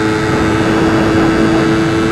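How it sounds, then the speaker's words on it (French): Motorcycle engine labouring uphill with two riders aboard, a steady close drone with a strong low hum and broadband wind rush, continuous and loud throughout. "si ma moto avance pas vite, c'est normal. Parce qu'on est en montée et qu'on est deux dessus."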